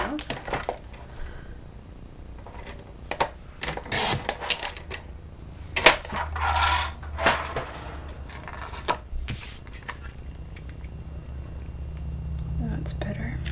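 A paper trimmer shaves a hairline sliver off card stock while making a masculine Stampin' Up! card: short scraping slides and sharp clicks come close up in scattered bursts, with paper rustle and handling noise between them.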